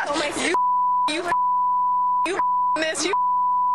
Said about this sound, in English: I think that long beep was my favorite part